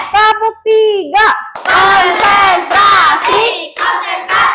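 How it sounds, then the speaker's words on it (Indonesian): Children shout chant-like calls and clap in sharp rhythmic bursts during a concentration clapping game in a classroom, with loud voices and claps alternating in short, quick phrases. "Tepuk konsentrasi."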